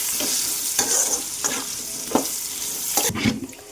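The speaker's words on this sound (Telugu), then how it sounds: "ముక్కలు అయితే వేగుతున్నాయి కదా" Vegetable pieces fry in a pan in a home kitchen, a steady sizzle broken by a few louder stirring scrapes spaced about a second apart, with no voices.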